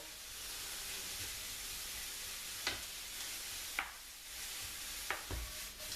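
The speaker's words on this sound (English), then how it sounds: "I'm going to let these fry down a little bit" Mushrooms fry in a pan with a steady, soft sizzling hiss, broken by a few brief stirring scrapes and clicks.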